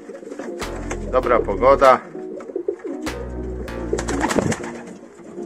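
Park pigeons, a courting male and female, coo in low, throaty rolling calls, with two clear bouts close by, while a person speaks briefly over them.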